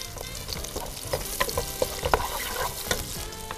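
Mushrooms fry in a pot with a steady sizzle, punctuated by sharp clicks and scrapes of stirring at close range.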